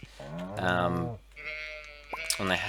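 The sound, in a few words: sheep bleating in the video game Stardew Valley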